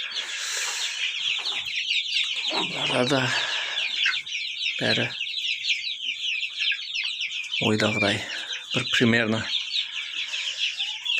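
A coop full of young chicks peeps constantly in shrill chirps, while a few lower clucks and rooster-like calls rise above them and someone talks over the flock.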